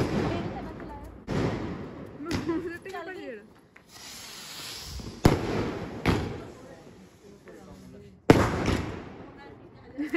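Diwali fireworks and firecrackers burst at intervals, several sharp loud bangs with crackling fizz between them, heard nearby outdoors while people talk in the background.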